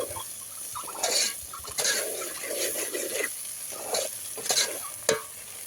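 Ginger paste loosened with a little water sizzles in a pan for a Natu Kodi village chicken curry cooked outdoors, with steady frying hiss broken by scraping stirs of a spoon against the pan.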